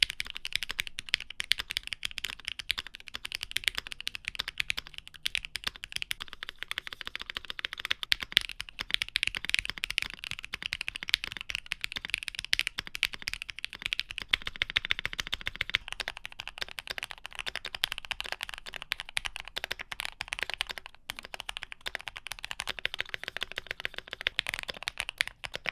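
Steady fast typing on a Bakeneko65 mechanical keyboard fitted with 50A O-rings, polyfill and a taped PCB, a dense, muted clatter of keystrokes running continuously at close range without pause.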